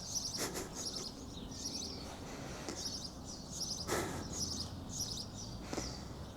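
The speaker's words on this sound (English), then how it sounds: "the sound of the birds" Small birds chirp outside in repeated quick bursts of high tweets at a moderate distance, with faint background hum and occasional soft knocks.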